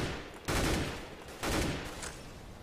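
Gunfire in Counter-Strike: Global Offensive comes in two sharp, loud bursts about a second apart, each decaying quickly into a brief echoing tail.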